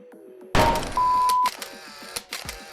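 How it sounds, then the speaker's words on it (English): An electronic beep sound effect plays after a short delay, a clear tone that cuts in suddenly and holds briefly, followed by faint clicks and thuds. "Maybe it's for like this beep."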